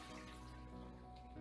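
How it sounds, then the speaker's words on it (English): Water from boiled potatoes is poured off in a steady, continuous splashing stream, fairly quiet and unbroken, with no talking. "I'm gonna pour the water off the potatoes"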